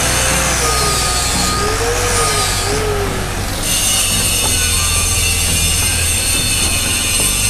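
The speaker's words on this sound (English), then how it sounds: "So here is where I do hit it with a wire wheel." A wire wheel scours slag from a welded 8-inch steel pipe joint, giving a loud, continuous abrasive whir with shrill squealing tones that rise and fall, close up and with no voices.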